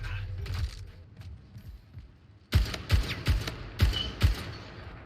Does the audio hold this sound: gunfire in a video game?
yes